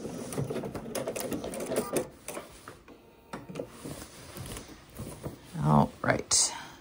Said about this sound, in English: And then we'll backstitch there.